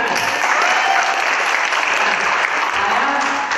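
Dense, steady applause from a large crowd, continuous and loud throughout with no pauses.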